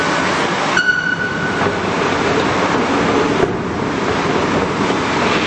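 A train rumbles steadily close by at the Malpensa Airport Terminal 2 station, with a broad, noisy roar and a brief high squeal early on; no talking.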